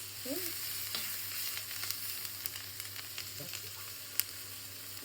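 Chicken pieces frying in a pan, giving a steady, soft sizzle with a few light clicks of a utensil, heard alone at moderate distance.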